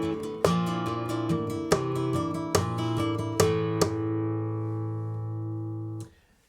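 Acoustic flamenco guitar strums a bulerías compás phrase with sharp accented chord hits, then lets the final chord ring out before a quick muted stop.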